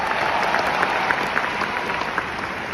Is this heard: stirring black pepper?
no